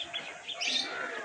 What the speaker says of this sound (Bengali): চারধারে পাখি টাখি ডাকছে